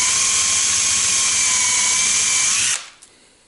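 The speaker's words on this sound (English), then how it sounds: "Now Fastener bits can drill flat bottom holes." A power drill with a flat-bottom bit whines steadily and loudly at high speed, then abruptly stops, leaving near silence with a faint click.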